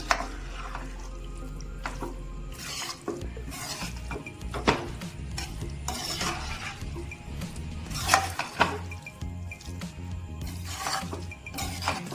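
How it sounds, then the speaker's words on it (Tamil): Chicken white sauce pasta with cheese stirred in a pan, a soft run of scraping and clinking strokes with occasional sharper utensil knocks, heard close and fairly quiet with no talk. "இதை அப்படியே லைட்டாக மிக்ஸ் பண்ணி விட்டுக்கோங்க."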